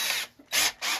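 A power drill with a 5/32 drill bit drills holes through a quarter-inch panel during an arcade cabinet restoration, giving two loud, close whirring bursts separated by a short pause.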